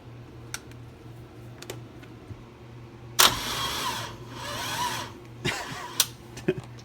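LS1 V8 swapped into a Dodge Stealth cranks on a weak, nearly dead battery: a sudden loud burst of starter grinding, labored and uneven, fading and returning in a few strained pulses over a steady low hum.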